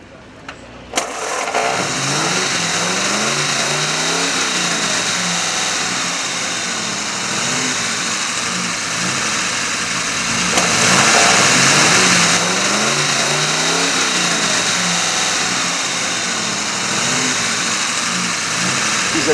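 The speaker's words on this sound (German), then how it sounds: "Für einen besonderen Sound sorgen die 8-Zylinder des Bugatti." A vintage 1929–1934 Bugatti Type 44 with an eight-cylinder engine runs at an outdoor classic car meet, a loud, close engine note that starts abruptly, idles unevenly and swells with a rev near the middle, over crowd noise.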